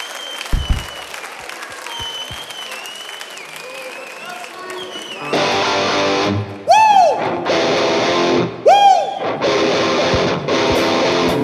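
Steady applause from a concert crowd rises after a speaker's announcement and runs for several seconds, dense and close, with loud whistles cutting through twice.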